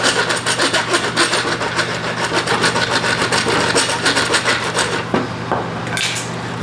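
Dragon Rasp filing the heel of a wooden acoustic guitar neck: rapid, rhythmic scraping strokes, close and loud, with a low steady hum running underneath.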